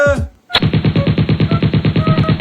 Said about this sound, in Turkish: Tüfekten nasıl bir ses çıkacak acaba?